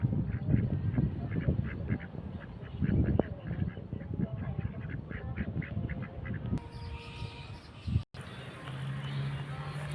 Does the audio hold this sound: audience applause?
no